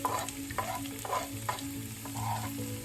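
Garlic frying in oil for garlic chips, a steady, moderate sizzle with rhythmic stirring strokes against the pan about every half second, no one speaking.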